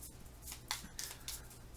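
Game tiles for the Parks board game being shuffled by hand, a few soft clicking and sliding bursts in quick succession, quiet and close with no voices.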